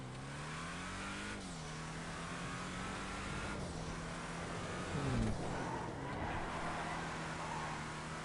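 A car in GTA Online revs and accelerates hard, its engine note climbing and shifting through several gear changes, close and loud, with a brief squeal near the end.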